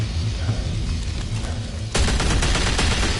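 Video game gunfire, a steady rattle of rapid shots that suddenly grows louder and denser partway through, close and continuous.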